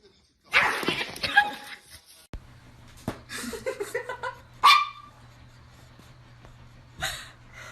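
A dog barks and whimpers in short, close bursts scattered across several seconds, with loud yelps alternating with softer whiny sounds and brief quiet gaps.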